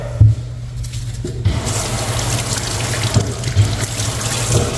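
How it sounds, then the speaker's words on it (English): A Brillo pad with Dawn soap scrubs a stainless steel sink in a salon suite, with repeated rough rubbing strokes over splashing, running warm water, close and fairly loud, no talk. "Give it some scrub."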